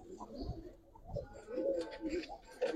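Giribaz and coloured pigeons give soft, low coos close by as a female pigeon is let go, faint and intermittent against light background noise.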